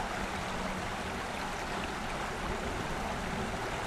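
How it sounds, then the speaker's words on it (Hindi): A river flowing somewhere off in the jungle, heard as a steady broadband rush of water that stays even throughout, moderately loud with no voices over it. "दूर एक नदी है वहां पे"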